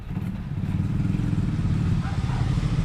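A motorcycle engine idles and rumbles close by at steady loudness, with a low throbbing pulse and some light clatter, arriving at a roofing renovation site.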